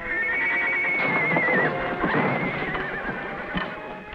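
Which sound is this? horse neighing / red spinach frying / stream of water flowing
horse neighing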